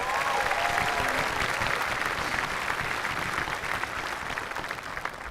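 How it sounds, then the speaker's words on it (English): Dense, steady crowd applause fills a graduation ceremony, loud and sustained throughout with many hands clapping at once and tapering only slightly near the end. "Let's give them one more round of applause."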